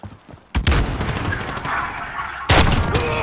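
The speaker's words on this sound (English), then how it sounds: "I'm taking fire!" Gunfire in Call of Duty Modern Warfare's Gunfight mode: two sharp, loud bursts of shots, one near the start and another later, with a rattling, echoing tail between them.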